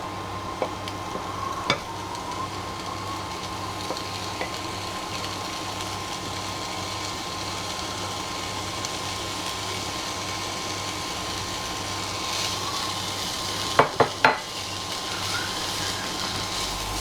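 Bacon fries with onions and spices in a pan, a steady broadband sizzle with an underlying hum and a few clattering knocks from stirring, near and alone.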